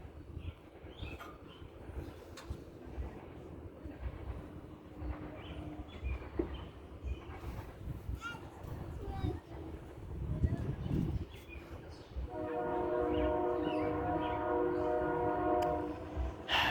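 TP&W freight train switching cars onto a storage line in Watseka, Illinois, heard from a distance as low rumbling and clanking, with a horn sounding toward the end and people talking nearby.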